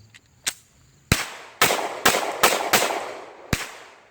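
Walther PPQ M2 pistol fired at a shooting range: seven sharp, loud gunshots in an uneven sequence, several in quick succession, each with a short echoing tail, no talking.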